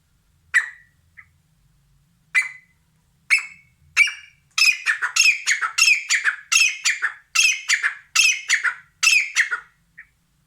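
Pet birds squawk loudly and shrilly, a few isolated calls at first, then a rapid, rhythmic burst of repeated harsh squawks close by.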